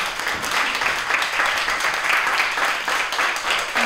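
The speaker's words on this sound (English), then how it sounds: "So can we give them a round of applause" A crowd applauds steadily throughout at a seventh-grade spelling bee, a dense wash of many hands clapping without pause.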